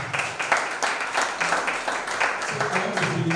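Audience applause at a creative writers and readers bootcamp, a steady wash of clapping that holds for the whole stretch with mild swells and no pause.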